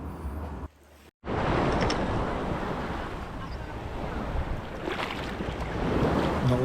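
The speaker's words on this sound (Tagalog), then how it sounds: "medyo lumalakas na naman yung alon, gumaganda na" Ocean waves surge at a beach in La Union, Philippines, a loud, broad rushing roar with wind buffeting the microphone, briefly cut off near the start before the surf noise returns and swells.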